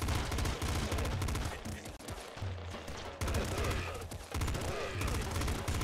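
Rapid, continuous automatic gunfire from a double machine gun in the top-down shooter Nuclear Throne (Ultra Mod), dense and loud, layered with game effects and explosions throughout, with a brief dip midway.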